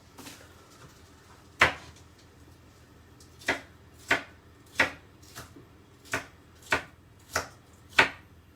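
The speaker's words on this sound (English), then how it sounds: "Just be careful with your fingers when you are trimming the inside of the pepper." A knife trimming and chopping a pepper on a board, nine crisp separate thuds coming at a slow steady pace after one earlier cut, close and clear over a quiet background.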